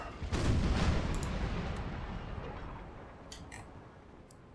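A ship's port-side guns fire in a naval battle in Napoleon Total War, a heavy booming broadside that swells at the start and rolls away in a long fading rumble, with a few faint sharp clicks afterward and no talking.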